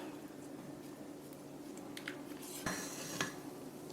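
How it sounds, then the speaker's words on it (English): A spatula scrapes and folds chocolate lava cake batter in a bowl, soft squishy strokes with a couple of brief clinks against the bowl, quiet and close with no talking. "Now I'm going to give my bowl a little scrape."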